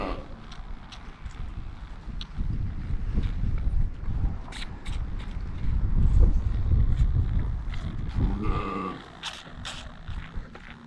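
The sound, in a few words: wind blowing outdoors on a farm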